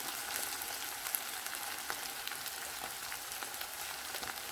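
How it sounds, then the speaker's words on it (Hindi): Steady, close sizzling of onions frying in hot oil, a continuous crackle with occasional small pops, no voices. "ये मैंने प्याज को ऑयल में डाल दिया और आग भी जला दिया।"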